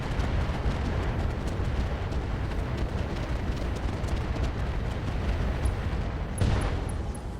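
Mech weapons firing on a target in the video game RogueTech: a continuous roaring barrage of explosive booms and gunfire, heavy and sustained, with a sharper impact near the end.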